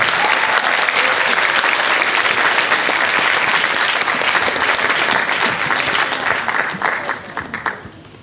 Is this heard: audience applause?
yes